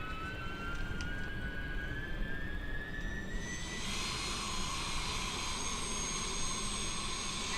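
A jet aircraft engine in Microsoft Flight Simulator 2020 spooling up, a rising whine that climbs in pitch and swells into a steady roar, heard from nearby on the ground.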